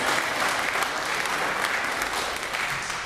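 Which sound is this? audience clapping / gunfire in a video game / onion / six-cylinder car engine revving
audience clapping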